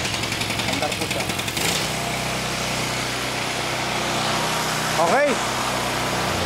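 A small portable generator started by push button runs at a steady idle, its engine loud and close; a brief spoken word and a knock or bump come midway.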